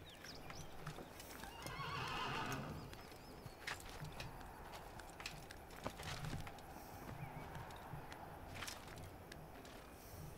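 A horse whinnies loudly near the start while hooves clatter steadily throughout, set in the video game Assassin's Creed on the road to Jerusalem, with light birdsong in the background.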